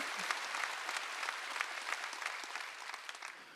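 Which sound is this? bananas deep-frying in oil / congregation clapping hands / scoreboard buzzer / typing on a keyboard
congregation clapping hands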